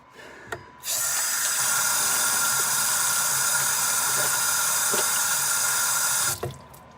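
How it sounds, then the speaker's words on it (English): Water gushes steadily from a sink tap as hands are washed, a loud continuous hiss lasting several seconds after a couple of brief clicks, then cutting off abruptly near the end. "I gotta wash my hands real quick. This might be loud for a sec."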